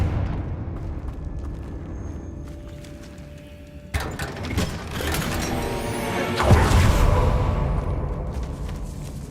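A Confringo blasting spell in Hogwarts Legacy goes off with a sudden booming crash, followed by a rumbling, crackling swell that grows louder before fading.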